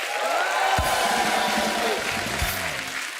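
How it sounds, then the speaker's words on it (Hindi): A studio audience at a comedy talk show bursts into loud, sustained applause and cheering, a dense crowd roar with a musical sting under it. "पूजा, आशा, जुबीन और विद्युत के लिए जोरदार तालियां हो जाए।"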